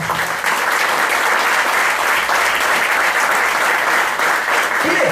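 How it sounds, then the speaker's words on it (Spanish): A church congregation applauds in a sustained, dense wash of clapping that fills the space from start to finish, loud and steady with no talk over it. "Denle un aplauso al Señor"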